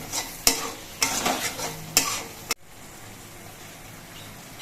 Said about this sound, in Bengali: মশলাগুলো বেশ কিছুক্ষণ কষিয়ে নিয়েছি দেখুন টমেটোগুলো কিন্তু একেবারে গলে গেছে